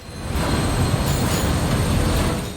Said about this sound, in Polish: Uwaga, pociąg A właśnie odjeżdża.